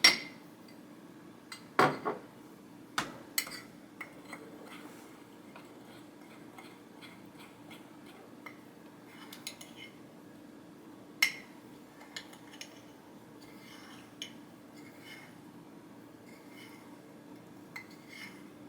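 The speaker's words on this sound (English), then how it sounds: "You're going to mix it all up." A spoon mixing gingerbread coffee cake batter in a mug, giving sparse, faint clinks and taps against the sides at irregular intervals in a quiet room.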